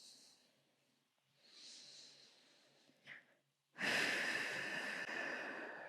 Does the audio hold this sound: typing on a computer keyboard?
no